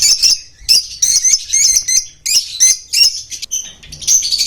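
Rosy lovebirds in a bird shop chirp loudly and shrilly in quick repeated bursts close by, a busy, piercing chatter with short gaps and no talking.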